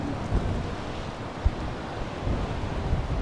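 Wind gusts across a clifftop above Kelingking Beach on Nusa Penida, Bali, a dense low rumble buffeting the microphone, with faint surf mixed in and a brief bump midway.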